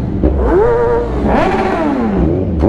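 A Kawasaki Z1000 four-cylinder motorcycle revs hard inside a tunnel. Loud rising and falling engine howls with strong echo, several sharp rev swells back to back.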